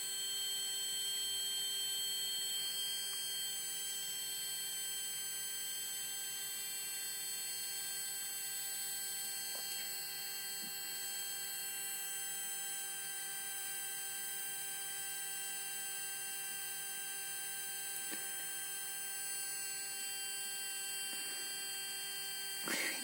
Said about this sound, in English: This motor's never been run. It's very smooth, very quiet.